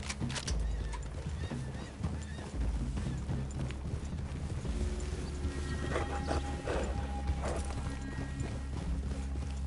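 Horses in the Red Dead Redemption video game whinny and clop along steadily, hooves and neighs close and clear over ambient game sound, with a few faint voices in the background.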